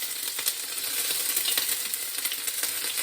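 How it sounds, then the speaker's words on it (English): Pork with Khmer curry paste sizzling and crackling in hot oil, a busy steady fry with bright spitting pops, close and fairly quiet, with no voices. "So oil is pretty hot. It's starting to sizzle."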